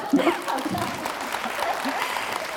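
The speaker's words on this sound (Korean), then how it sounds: "자, 격려의 박수 좀 부탁드립니다." Audience applause at a Korean lecture event with a criminal profiler, a brief burst of clapping mixed with crowd murmur and some voices, moderately loud and close.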